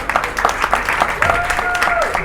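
A stand-up comedy crowd at a food court in Muscat, Oman, claps in scattered, uneven bursts while a voice speaks over it, with a brief sliding tone near the end.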